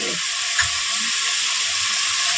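Spices sautéing for a boal fish curry give a steady, close frying sizzle throughout, with no talk and only a faint clink or stir near the start.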